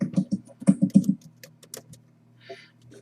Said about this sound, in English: Typing away if it's not typing.